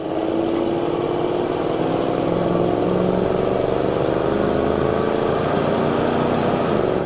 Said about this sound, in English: we'll go ahead and get in the throttle some, check out the 360, listen to the stacks a little bit